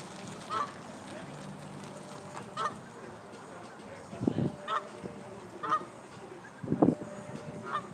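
Geese honk repeatedly at a lake where people are feeding birds, with scattered calls near and far spread across the clip, including louder bursts, over an outdoor background with faint talk.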